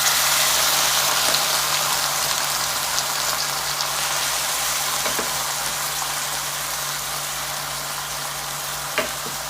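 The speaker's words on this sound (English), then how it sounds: "Let's start spooning in the tomato broth carefully." Tomato broth spooned onto spaghetti in a hot cast iron pan sizzles in a steady, loud, close hiss, fading slightly over time, with a couple of faint clicks and no talking.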